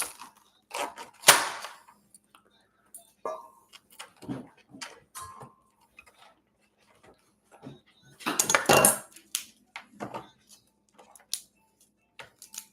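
Knife chopping vegetables on a board in a home kitchen, heard as scattered sharp taps and clacks in irregular bursts, with a denser flurry of cuts near the end and quiet pauses between.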